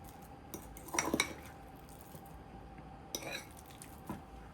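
Quiet scrapes and clinks of a utensil mixing chicken chili seasoned with salt and pepper inside a baked potato, in two short bursts with soft squishy stirring between them.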